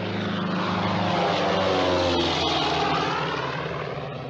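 A propeller airplane engine from the film Casablanca drones loud and steady, the plane to Lisbon, a thick rumbling hum that swells slightly and then eases, with no voices over it.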